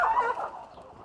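A chicken in a South African village gives a brief, close cluck, a single short call fading out.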